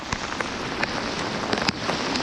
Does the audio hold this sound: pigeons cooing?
no